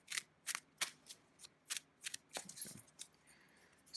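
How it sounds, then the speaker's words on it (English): A deck of tarot cards is shuffled in quick, crisp bursts, about a dozen riffling swishes in an irregular rhythm, close and quiet with no talking. "just do a bit more shuffling."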